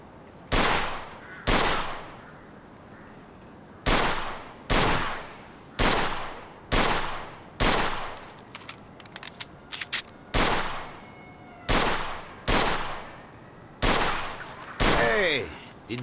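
Loud pistol or gun shots fired at an old wreck in the video game Mafia 2, a dozen or so sharp reports at irregular intervals with clatter between them.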